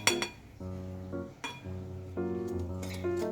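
A clean mixing bowl is set out for making bandros batter with rice flour, giving a few sharp ceramic or glass clinks with ringing tones, close by and alone with no talk.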